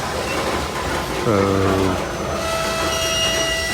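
A coal freight train with distributed power units rumbles steadily as it slows to a stop, a brief squeal or horn-like tone rising mid-way and high whines later, with someone talking over it.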